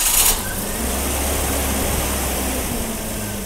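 A BMW E30 engine idles after a new distributor is fitted, a steady low rumble close by with an even hum throughout, preceded by a brief hiss at the start.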